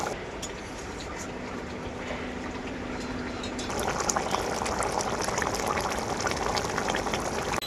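Silver carp fish curry broth simmering in a pan with the fried fish added, a steady close bubbling boil that grows louder and busier partway through.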